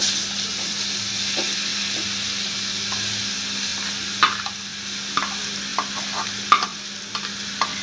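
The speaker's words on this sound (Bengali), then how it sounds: "বেলগুলো দেওয়ার পর এভাবে হালকা করে ভেজে নেব" Cut wood apple pieces frying lightly in hot oil with spices for a sweet pickle, a steady close sizzle broken by several sharp stirring scrapes in the later half, with no talk.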